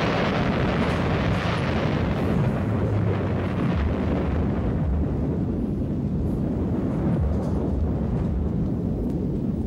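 Atomic bomb explosion from a played film: a continuous, loud, deep roaring rumble that stays dense and sustained throughout, with no distinct onset and no talk.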